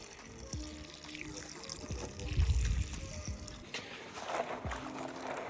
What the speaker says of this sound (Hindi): अब जितनी भी ये मिर्च है इन्हें मैं धो लेता हूँ और धो के फिर सुखा लेता हूँ